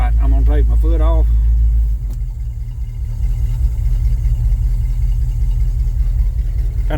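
An old truck engine, started cold without a choke, idles with a low, uneven rumbling pulse after a brief spoken remark at the start, then settles into a steady, moderately loud idle.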